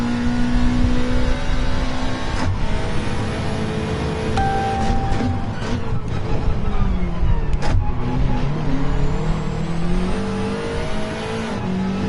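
A racing car in Gran Turismo 7 roars steadily and loudly, its engine pitch jumping and dropping through several gear changes across the stretch, with no voices.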